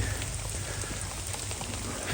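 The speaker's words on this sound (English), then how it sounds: "Also enjoying the raindrops." Rain falling steadily around chameleons, a dense, even hiss of drops pattering on leaves and surfaces, close and continuous without voices.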